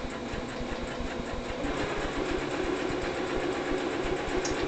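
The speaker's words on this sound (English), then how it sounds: "I'll put mine on a zigzag stitch. Close up the seam." A sewing machine runs a zigzag stitch along a seam in scrap fabric for a simple T-shirt dress, making a steady, close rapid mechanical chatter that continues without a break.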